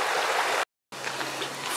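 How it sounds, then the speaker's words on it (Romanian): Mountain spring stream at Golitha Falls, water flowing steadily as a broad, close rushing wash, cut by a brief silent gap midway before resuming. "zgomot frumos de munte, de parcă ești la munte, izvor"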